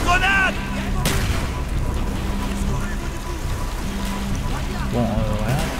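Grenade blast in the shooter game Call of Duty: Black Ops, a sharp boom near the one-second mark amid continuous battle noise and crackling, with a voice talking over parts of it.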